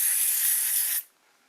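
A steady aerosol spray of carburettor cleaner onto a lawnmower carburettor hisses loudly for about a second, then cuts off abruptly into near silence.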